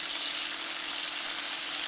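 Beef pieces frying in oil in a skillet give a soft, continuous sizzle and crackle, fairly quiet and even throughout, with no voices.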